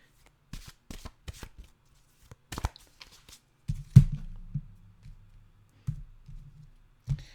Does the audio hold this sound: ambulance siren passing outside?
no